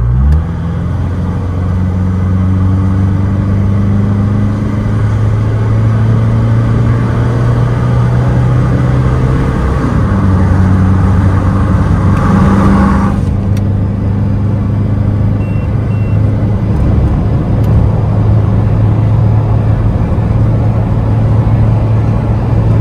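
A car, its sensor just repaired, pulls away and accelerates in a low steady engine drone that climbs in pitch, drops at a gear change about ten seconds in, then climbs again, loud and close throughout with no talking.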